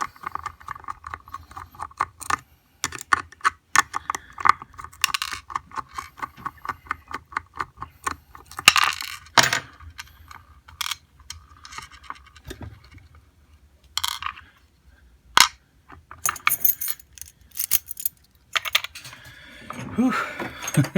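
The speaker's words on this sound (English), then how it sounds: "Let's pull the screws out first." Screws being removed from an ASSA Twin Combi lock, with rapid small metallic clicks and ticks from turning screws and a screwdriver, irregular close-up tapping and rattling with pauses.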